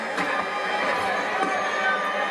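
Cricket crowd at a match against Guyana, a broad steady wash of cheering and murmuring from many spectators at a distance, continuous and moderately loud without any standout voices.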